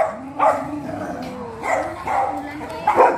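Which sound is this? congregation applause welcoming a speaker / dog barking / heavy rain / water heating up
dog barking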